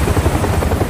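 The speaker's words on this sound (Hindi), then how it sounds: "हेलीकॉप्टर का लग रहा है एकदम रियल है" Helicopter rotor and engine sound in the video game Resident Evil 7, a loud, steady low chopping rumble filling the moment without speech.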